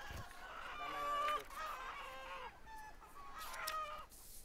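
Chickens cluck and a rooster crows at a poultry farm in Vietnam, with drawn-out crowing calls overlapping softer clucking, fairly close and loud over a faint background.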